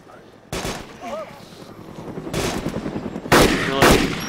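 Video game gunfire crackles in sharp, loud bursts, a few separate volleys with rapid automatic fire toward the end, alongside brief in-game sounds.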